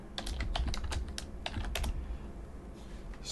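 Quick bursts of keystrokes on a computer keyboard during coding, soft and close, tapering to a brief lull near the end.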